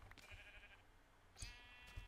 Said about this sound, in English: Look at all these sheep down here